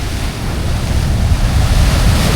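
Rough sea pounds the shore during a coastal sea surge, a loud, continuous roar of crashing surf with heavy wind buffeting the microphone and no voices.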